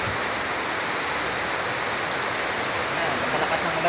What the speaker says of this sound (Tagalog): Ayan, kalakas ng ulan guys.